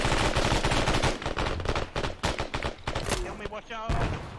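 Rapid gunfire in the military video game ArmA during a Cold War scenario, a loud dense volley of shots that thins into scattered reports, with a voice speaking partway through.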